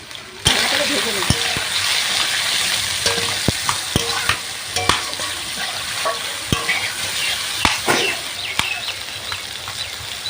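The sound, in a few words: ridge gourd frying in oil with turmeric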